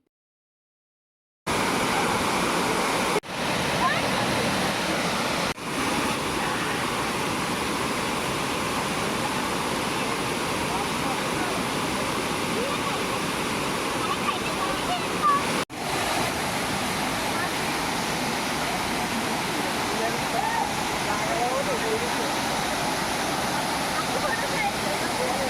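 Chintavanipalem waterfall near Koyyuru, a hidden waterfall that holds water year-round, roaring as a steady, dense rush of falling water that stays loud and unbroken from start to finish.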